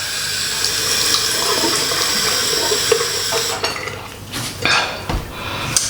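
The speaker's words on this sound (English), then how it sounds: "I'm washing with water now just to get the face wash off." Running tap water at a sink as someone rinses face wash off their face, a steady close splashing stream with brief clinks and louder splashes near the end.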